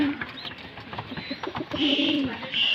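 Domestic pigeons coo in a home loft, several low, throaty coos rolling close by amid faint rustling and background chatter from the birds, with no human voices.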